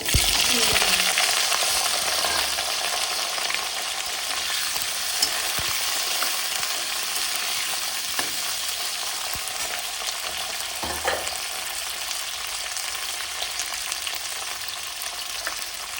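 Ghee or oil sizzles steadily in a pan while fried rice is made with cashews, raisins and prawns, a close, continuous hiss with occasional stirring knocks and no voices.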